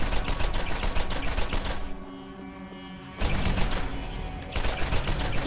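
Rapid bursts of gunfire from the player's gun in Borderlands, loud and close, two long strings of fast shots broken by a short lull, with no talking.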